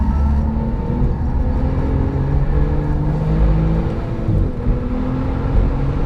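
A COBB Stage 2 tuned Porsche 997 Turbo lapping a track, a loud, close engine drone with rising whirring tones under acceleration, steady and continuous with a brief dip partway through.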